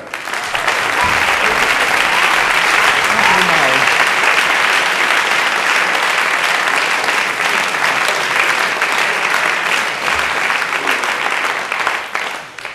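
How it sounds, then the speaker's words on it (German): Loud, sustained applause from a comedy show audience welcoming a cabaret performer, a dense roar of many clapping hands holding steady for over twelve seconds. "Meine Damen und Herren, jetzt ein herzlichen Applaus"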